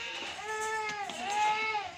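A young goat, a five-month-old Rajanpuri kid at a livestock sale, gives a sustained wavering bleat close by that rises and falls over two seconds, with a second quaver near the end.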